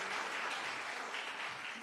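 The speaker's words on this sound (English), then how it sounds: "Give him a loving round of applause." A crowd applauding steadily, a dense wash of clapping heard from a distance with no voices on top.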